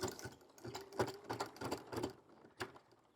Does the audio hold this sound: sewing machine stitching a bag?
yes